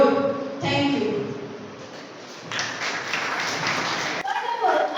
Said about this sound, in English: A huge round of applause for our wonderful speaker.